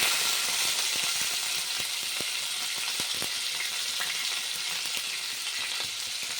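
Cumin seeds and green chillies fry in hot oil for tomato rice, a dense, steady crackling sizzle with sharp popping ticks scattered throughout, close and continuous.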